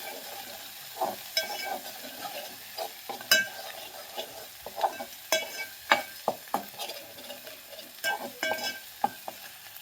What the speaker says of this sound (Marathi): तर बघा अशा पद्धतीने आपल्याला हे मसाला भाजून घ्यायचा आहे